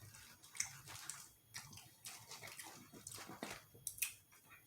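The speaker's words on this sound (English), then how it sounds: "I'm chewing this almost like it's chewing gum." Rubbery chicken gizzards chewed close to the mic, giving repeated wet squishing bites and smacking sounds in an irregular rhythm, quiet but clear with no talk.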